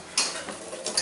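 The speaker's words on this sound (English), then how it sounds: "Whisking." A whisk working lemon butter in a pot, with a few quick metallic ticks and scrapes against the pot's sides over a soft background.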